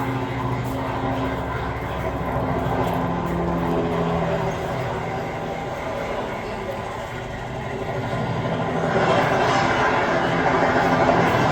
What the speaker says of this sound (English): that helicopter is flying around 30 meters above my property